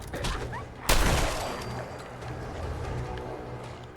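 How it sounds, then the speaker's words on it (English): A single loud shotgun blast fires in Fallout 4, a sharp close report that decays into a noisy in-game background. "The shotgun is the best thing ever."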